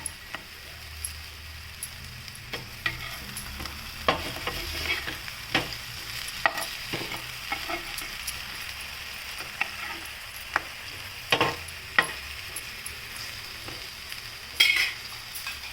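Eggplant slices seasoned with salt and turmeric frying in oil in a pan, a low continuous sizzle with scattered clicks and scrapes of a utensil turning the slices.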